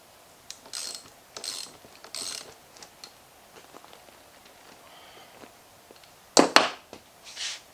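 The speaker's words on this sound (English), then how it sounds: "So now just bolt the flat bar down." A hand ratchet bolts a flat steel bar down for a step van seat mount in a workshop. Several short bursts of close clicking ratcheting come with pauses between them, and the last bursts near the end are louder.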